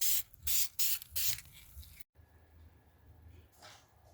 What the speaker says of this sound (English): So just using the Duplicolor vinyl fabric. Give us a couple coats here.